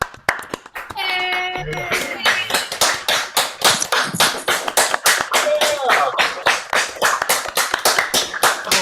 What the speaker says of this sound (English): I'm going to click the box and this will allow everyone to clap and cheer